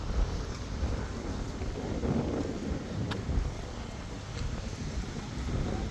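Midday wind at An Bang beach in Vietnam buffets the microphone in a steady, low roaring rush that swells and eases without any speech.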